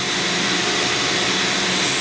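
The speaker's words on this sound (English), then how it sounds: "Now the vacuum cleaner is picking up the dust that would normally just fly off into the air." An ordinary Ridgid shop vac runs steadily, a loud continuous broadband whoosh as it sucks up dust while a pellet stove is cleaned, with no talking over it.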